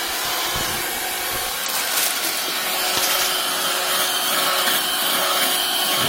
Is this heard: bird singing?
no